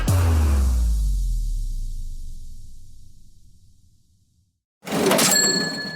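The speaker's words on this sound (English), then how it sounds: "It's the sound of money hitting your Venmo account" A Venmo payment notification chime rings out near the end, a short bright electronic tone with a cash-register feel, following a fading low rumble and a moment of silence.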